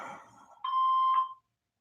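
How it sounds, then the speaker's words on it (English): A voicemail beep on a phone call, a single clean electronic tone lasting about half a second, heard clearly right after a brief recorded greeting fades out. "Please leave your name and phone number after the beep."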